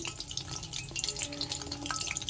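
Chicken pakoras frying in hot oil, a close, steady crackling sizzle with fine popping bubbles throughout, no voices over it.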